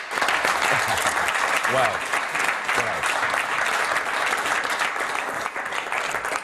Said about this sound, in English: The applause for your question is interesting